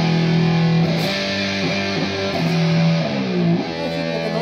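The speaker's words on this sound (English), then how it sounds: "this is the distortion coming from this HX effects line 6" A loud, fuzzy distorted electric guitar, with distortion from a Line 6 HX Effects unit, plays a few bending, sliding notes over a sustained gritty chord.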